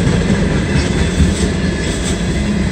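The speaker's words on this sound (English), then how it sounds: "That's a long train." A long Norfolk Southern mixed manifest freight train with distributed power units rolls past northbound on track one, a loud, steady, close rumble with faint wheel clatter and no break.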